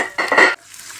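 Garlic and onion dropped into hot oil in a pan for a brinjal curry, a short burst of sizzling and clattering that fades quickly to a soft, quiet fry.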